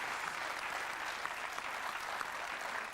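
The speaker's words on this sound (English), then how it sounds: "give him a round of applause" Studio audience applause at a 1998 television cooking game show: steady, dense clapping that fills the room at full volume, continuous and even throughout, with no talking over it.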